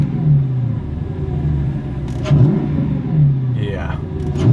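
Mercedes C55 AMG V8, freshly fitted with new spark plugs and coil packs, idles with a steady rumble and takes a few short throttle blips that swell briefly, with excited voices talking over it.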